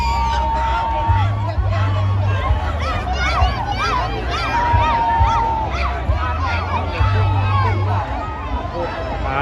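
A crowd cheers at a riverside boat racing festival in Attapeu, Laos, with lively babble, shouts and whoops close by, while voices talk over it and low engine-like hum runs underneath.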